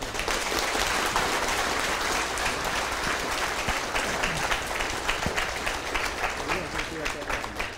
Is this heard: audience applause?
yes